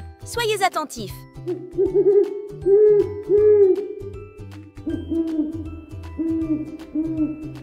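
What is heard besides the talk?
owl hooting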